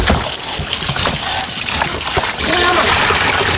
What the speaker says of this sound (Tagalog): So lagyan natin ng mainit na tubig para madaling hubaran.